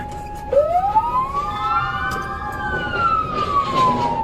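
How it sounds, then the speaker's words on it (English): A police car siren wails during a vehicle chase, a single long rising-and-falling sweep that climbs, peaks and slowly descends, loud and close over steady road and engine noise, with no voices. "Go ahead and reactivate your lights and sirens there"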